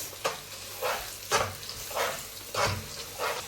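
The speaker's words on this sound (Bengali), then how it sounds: "তারপর এটা নাড়াচাড়া করতে হবে যতক্ষণ না পর্যন্ত এটা একটা সুন্দর কালার না হয়" Dry spices and food fry in hot oil in a pan while being stirred, a continuous low sizzle broken by rhythmic scraping strokes of the spoon, close and moderately loud with no talking.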